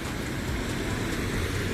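Heavy rain falls on wet roads in a dense, steady hiss, loud and continuous with no break and no voices.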